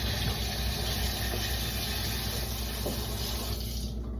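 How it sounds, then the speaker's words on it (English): A battery-operated coffee stir stick held under a running tap, a loud, steady gush of water splashing into a sink that stops abruptly near the end, no voices. "I'm going to run this under water."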